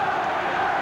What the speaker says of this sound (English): The crowd now picking up the cheer.